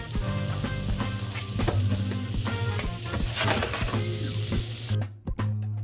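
Onions and mushrooms fry in butter in a pan with a steady, close sizzle and occasional stirring scrapes, ending in a few sharp clinks and brief quieter gaps.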